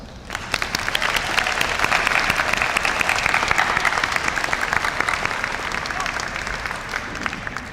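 Large crowd applauding at the Ranney School Class of 2026 commencement after graduates are asked to thank families, teachers and mentors; steady, dense clapping holds at full strength for the whole stretch.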